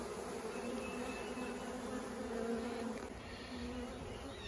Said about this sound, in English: I'm going to try to get these bees out, see if there's any way to save them